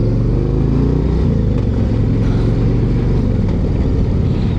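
Harley-Davidson CVO Road Glide motorcycle engine revving up through a quick-shifted gear change, a steady loud low rumble close by with no talk.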